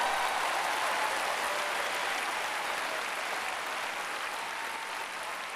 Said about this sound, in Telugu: అందరి కోసం చప్పట్లు కొట్టండి